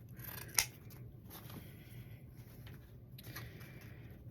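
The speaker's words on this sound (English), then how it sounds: "So I'm just cutting it, or folding this in half, cutting at an angle." Scissors snip through ribbon while a layered hair bow is made, one sharp close cut followed by quieter scraping and handling sounds over a faint steady background.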